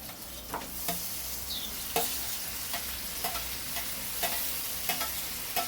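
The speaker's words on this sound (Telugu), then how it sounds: "టమాటాలు వేసుకుని కలుపుకుందామండి" Chopped tomatoes stirred into fried onions in a pan for tomato rice, a low steady sizzle broken by repeated light spoon taps and scrapes at a regular pace.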